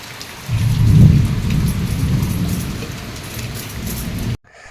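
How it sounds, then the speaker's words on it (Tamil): Heavy rain pours steadily outdoors in Tamil Nadu, a dense close hiss with a low rumble early on, with no voices over it. "நல்லா மழை பெஞ்சிட்டே இருந்துச்சு"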